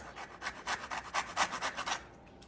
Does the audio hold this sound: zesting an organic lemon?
yes